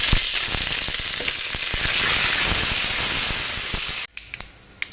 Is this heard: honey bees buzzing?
no